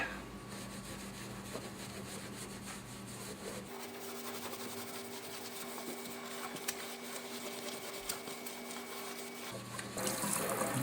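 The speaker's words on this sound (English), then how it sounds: "I'm going to moisten this towel just a little bit, and then we're going to scrub out the sink" A sink is scrubbed with a moistened towel, a steady close rubbing and wiping sound with faint water noise running continuously for about eleven seconds, with no speech.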